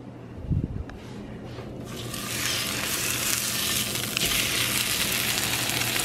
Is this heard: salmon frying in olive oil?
yes